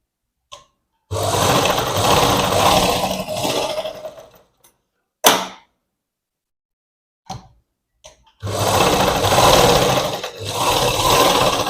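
Sewing machine stitching fabric in a beginner tailoring class: loud steady whirring runs in three bursts of a few seconds each, separated by near silence and a few brief clicks.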